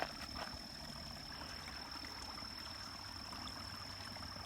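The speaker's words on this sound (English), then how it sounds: "there's still water flowing down this little branch" After rain, water trickles down a small branch into a culvert under a road, a quiet, steady murmur with a faint thin whine running through it.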